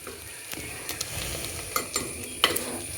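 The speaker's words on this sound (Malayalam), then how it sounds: "നമ്മുടെ ബീഫ് ഫ്രൈ എണ്ണയിലിരുന്ന് നല്ല രീതിയിൽ ഫ്രൈ ആയിട്ട് മുരിഞ്ഞു വന്നിട്ടുണ്ട്" Beef pieces frying in hot oil in a pan, giving a steady close sizzle with occasional stirring clinks and scrapes, no voices.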